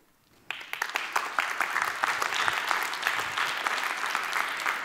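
Applause breaks out from a conference audience after an open source business talk, starting abruptly after a brief quiet moment and continuing as steady, dense clapping.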